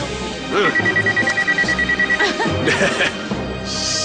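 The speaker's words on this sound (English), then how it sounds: "Since when do you keep your cell phones on in a movie theater, huh?" A cell phone ringing inside a movie theater in the animated series Code Lyoko, a rapid repeated electronic trill sounding for a couple of seconds amid other effects.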